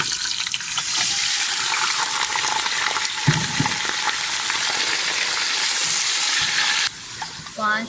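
Beef being added to a pot of spices and frying, a steady broad sizzle that runs loud throughout and drops off briefly near the end, with no talk over it.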